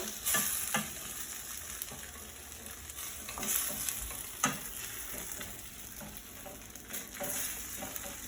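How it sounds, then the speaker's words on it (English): Leftover fried rice with cooked egg is stirred and sizzling in a pot, with a steady frying hiss broken by frequent scraping and clinking from the spoon, heard close with no talk. "now it's going to mix everything together in the pot"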